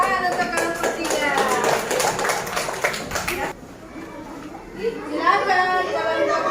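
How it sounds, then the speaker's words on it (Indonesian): Classroom applause for a student group about to present during a school coaching session, a dense burst of clapping mixed with chatter that drops away midway, then resumes more lightly as voices continue. "Tepuk tangan untuk kelompok 3."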